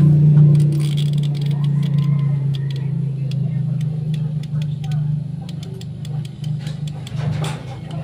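A Whirlpool two-door refrigerator's defrost timer is turned clockwise by hand, giving a run of close, small ticking clicks over a steady low motor hum.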